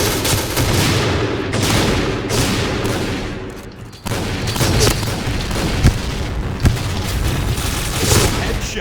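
Continuous G36 assault rifle fire from the online shooter Point Blank: dense, loud bursts of rapid shots with sharp booming peaks, a brief dip near the middle, and voices talking over the gunfire.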